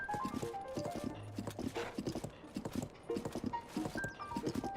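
Video game horse hooves clip-clop in a quick, steady rhythm while riding, close and clear, with game music playing under them and no talking.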